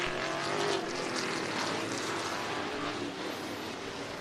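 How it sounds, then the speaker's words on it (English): Race cars roar around a figure 8 track during World Figure 8 practice and qualifying: a steady, dense engine drone with no pause, fairly distant and broad, swelling slightly early on before settling. "Good to hear race cars roaring around the track."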